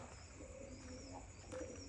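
Soft pigeon coos sound faintly over a quiet background hum, a few low murmuring calls spread across the short stretch.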